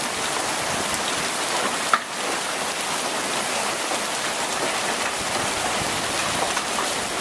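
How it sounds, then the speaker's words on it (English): Pea-sized hail and rain pelting down on a dark morning, a dense, continuous hiss of small impacts close by, steady throughout with one brief sharper knock early on. "It is hailing, yep."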